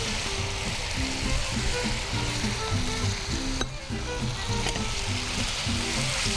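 Onion and vegetables, cabbage among them, sizzle loudly in a pan with a dense, steady crackle and occasional stirring scrapes, close up with no talk.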